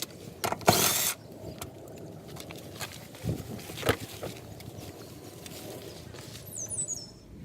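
A ratchet works on the seat bolts of a 2009 Toyota Camry, giving scattered close-up clicks and metallic clunks in short irregular bursts over quiet background noise, with no voices.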